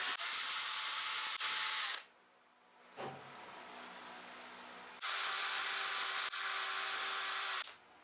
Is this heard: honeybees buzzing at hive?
no